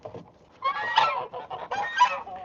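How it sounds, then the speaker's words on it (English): Geese honking among chickens in a coop, a close run of loud nasal honks in overlapping bursts, quieter clucking at the start, no talk. "Then there's a goose, second goose."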